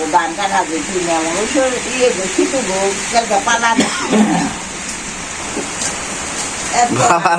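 Steady rain hisses in the background while people talk over it, the downpour continuous and moderately loud.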